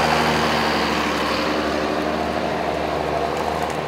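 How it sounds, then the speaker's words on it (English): Steady engine rumble from a 1990s 175 hp six-cylinder tractor, a low continuous idle-like drone with even tone and no talk, fairly close. "The 175 horsepower six-cylinder tractors from the 90s, with their trademark earthy sound, have reached cult status among farm machinery makers."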